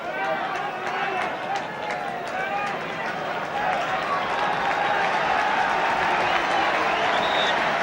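Crowd applause rises steadily through the stands of a packed ground at a 1972/73 Manchester United v Ipswich Town First Division match, greeting a substitute's arrival, with a commentator talking over the sustained clapping.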